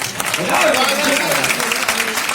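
Audience applause at a Hindi kavi sammelan poetry gathering, a dense continuous patter of hands held at steady loudness for a couple of seconds, with faint voices mixed into the crowd noise.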